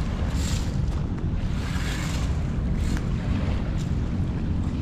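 A small boat circles on Manila Bay near Dolomite Beach, its steady low engine rumble and water wash mixed with wind buffeting the microphone, continuous and fairly close.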